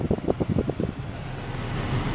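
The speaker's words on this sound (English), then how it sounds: "I'm gonna go turn the blower on" Heater blower fan of a Mitsubishi Galant VR4 running with a steady whooshing hum, preceded by a short burst of rhythmic thumps, close and moderately quiet, with no talking.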